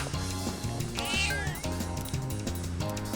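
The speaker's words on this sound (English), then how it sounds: "Hey, look, the cat came back!" A cat meows in Persona 3 Reload, a bright rising cry over steady looping game music, clear and close.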